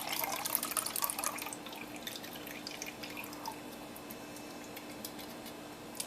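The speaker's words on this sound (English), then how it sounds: "pour the juice again into the measuring cup." Pineapple juice pours and drips steadily into a measuring cup, a light splashing trickle that is strongest at first and then settles into a softer, continuous flow.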